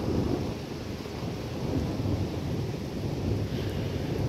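Thunder from a severe thunderstorm near Wismar in rural Mecklenburg, a loud, continuous deep rumble mixed with rain and wind noise, with no voices.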